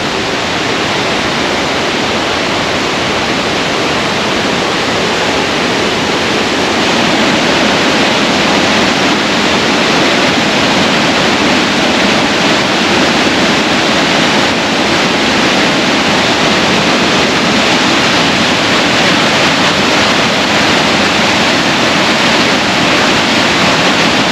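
McMichael Creek flows in a loud, steady broadband rush, continuous and close for the whole stretch with no voices.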